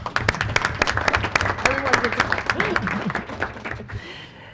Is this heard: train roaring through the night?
no